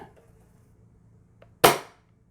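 A toy 1887 lever action shotgun fires once with a sharp, loud crack that decays quickly, preceded by quiet handling clicks and near silence.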